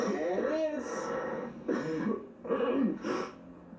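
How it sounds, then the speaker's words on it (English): A smoker clears his throat and coughs in a few rough, close bursts, with speech around them. "I bet you can't stop coughing."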